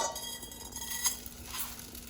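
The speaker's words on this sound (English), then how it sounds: "Here it starts to sizzle." Rice hits hot oil in a pan and sizzles softly with a faint steady crackle and a few light clicks, no voices.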